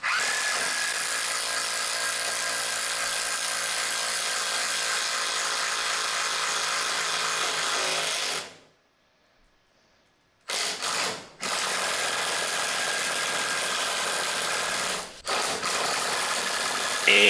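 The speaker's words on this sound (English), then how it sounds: "this is an impact wrench that I'm using to drill this hole" Steady, loud mechanical whirring of an impact wrench driving a 1.5-inch drill bit to bore a hole, running continuously, cutting out for about two seconds, then resuming with brief stops.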